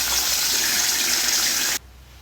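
Water running loudly from a tap for a face wash, a steady close gush that cuts off abruptly near the end.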